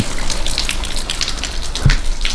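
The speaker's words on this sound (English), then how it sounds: "A little waterfall" A constant splashing rush of a small forest waterfall, close and steady, with scattered droplet patters.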